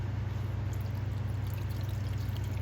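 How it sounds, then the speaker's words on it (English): Water poured into a baking dish of chicken and rice, a steady continuous pour with an even splashing wash from start to finish, alone and fairly close. "I'm going to also add a little bit more water."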